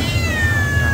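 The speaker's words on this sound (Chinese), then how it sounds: "厕所旁边的野猫" A stray cat beside a toilet block gives one long, drawn-out meow that falls slowly in pitch, heard close over a steady low rumble of outdoor background noise.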